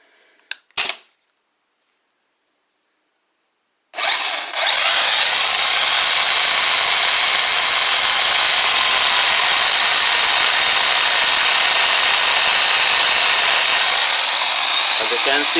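A faulty starter motor from a 2009 Mazda with a 3.7L V6, its gear spinning freely without engaging: a brief click, then a loud, steady high-pitched whirring drone that runs continuously without breaks.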